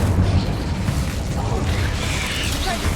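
Incendio fire spells go off in a Hogwarts Legacy duel, making a dense, steady rush of booming, crackling blasts during heavy spell combat.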